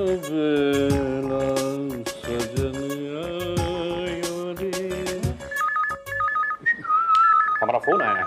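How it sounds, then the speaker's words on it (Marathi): A telephone ringtone in a Marathi TV serial scene, heard as a short run of repeating electronic beeps that follows a stretch of music, fairly loud and close. "हमारा फोन आया है."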